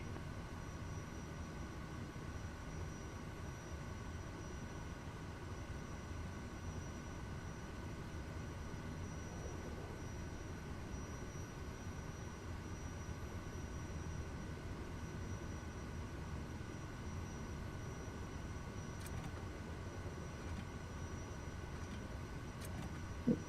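A light aircraft in a flight simulator game runs its engine for takeoff, a steady low drone that holds faint and even the whole time.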